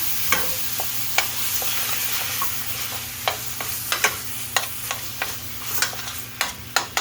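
Rinsed ground meat being stirred in a pan on the stove for sloppy joes, a low continuous sizzle with scattered sharp utensil taps and scrapes against the pan, close, with no talking.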